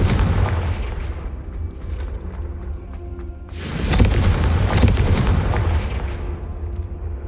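Fire spell blast cast in the video game Hogwarts Legacy: a sudden loud burst of booms and crackling detonation erupting over a steady low rumble of game ambience, then slowly fading.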